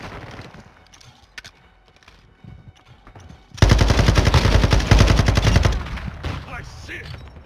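SAKIN MG38 light machine gun firing in Modern Warfare 2, a loud sustained burst of rapid automatic fire lasting about three seconds, then tapering into fainter shots and game sounds after quieter background audio.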